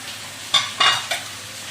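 Lentils tipped into a karahi of sizzling masala with ginger, giving three short bursts of frying hiss and stirring over a steady low sizzle, close and fairly loud, no voices.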